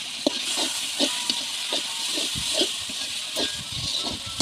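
Onions and tomatoes sautéing in a pan with ginger garlic paste and beef for a village-style meat curry, a loud continuous sizzle broken by regular stirring scrapes, with no talk.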